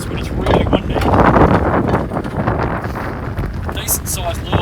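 Strong wind buffets the microphone in a steady, loud roar while fishing, and a voice talks underneath it.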